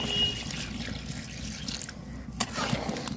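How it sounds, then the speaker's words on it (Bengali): Water is poured into a pot of cooking duck curry for the gravy, a quiet splashing and trickling pour, close, with a brief clatter near the end. "তা এখন ঝোলের পানি দিয়ে দিব"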